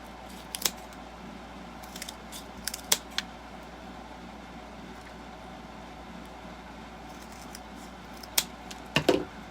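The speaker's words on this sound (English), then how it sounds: "I'm going to cut this down a little bit" Scissors cut down thin wooden shims for a DIY pumpkin door hanger, giving a few sharp snips near the start and a cluster of quick cuts at the end over a quiet room hum, with no talking.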